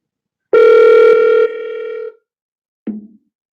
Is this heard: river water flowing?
no